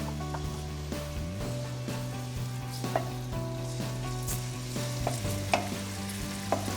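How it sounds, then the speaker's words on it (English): Bacon frying in garlic oil in a pan gives a steady, close crackling sizzle, with occasional scrapes and clinks of stirring throughout. "Bacon fried in garlic oil."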